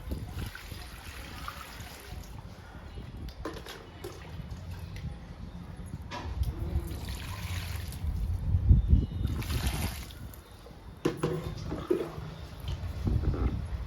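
Water poured onto a money plant in coco peat indoors, a faint soft trickle and splashing with low background rumble, no voices.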